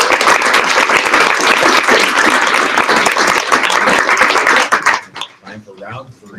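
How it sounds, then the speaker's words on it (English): A spelling bee audience breaks into loud, dense applause that lasts about five seconds, with the clapping then thinning out into a few scattered claps. "let's get a big round of applause"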